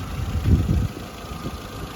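Petrol 1.6 Audi A3 with an automatic gearbox idling, giving a steady, close low hum with a slight early swell and no voices.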